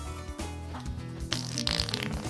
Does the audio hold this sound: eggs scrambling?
no